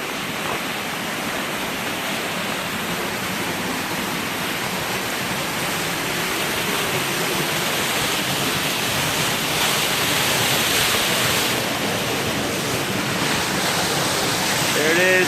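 Small waterfall on a Mt Baldy hike, a steady broadband rush of falling water, loud and close, continuing evenly throughout without pauses.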